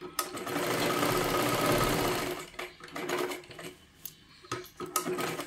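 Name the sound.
sewing machine stitching blouse tucks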